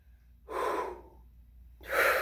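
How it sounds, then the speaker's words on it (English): Two deep inhales from a trumpet player warming up, the first fuller and lower in pitch, the second higher and more tense after a pause. Both are close, clear and breathy with no talking. "So a deeper sounding inhale is a bigger breath"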